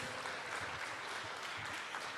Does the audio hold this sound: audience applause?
yes